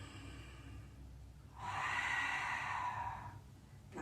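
A single slow, audible exhale during a wall-based Pilates exercise comes through as a soft, breathy rush that lasts about two seconds and then fades into a quiet room.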